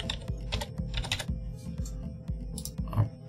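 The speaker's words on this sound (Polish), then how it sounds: "Wpisujemy hasło." Someone types a password for a MikroTik router on a computer keyboard, a quick irregular run of close, crisp key clicks with no voices.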